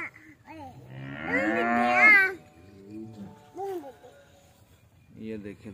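A dairy cow at a cattle market lets out several close, loud moos, a long drawn call followed by shorter ones, with someone talking nearby between them.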